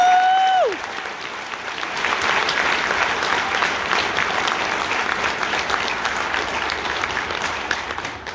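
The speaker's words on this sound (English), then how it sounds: "Give them a big round of applause for all of that." An indoor audience bursts into sustained, dense applause for honor band students, clapping building after a brief tone and continuing loud and even to the end.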